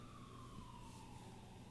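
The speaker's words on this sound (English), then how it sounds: "Excuse the siren outside" A distant emergency siren outside a home wails faintly with a slowly falling tone, steady and unbroken under quiet room noise.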